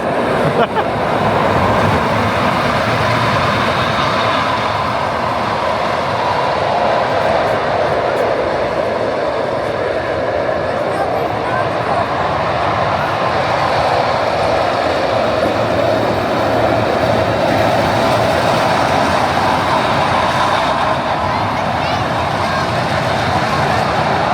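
A roller coaster train at Six Flags Discovery Kingdom rumbles and clatters steadily along the track, a continuous loud rolling roar that holds for the whole stretch.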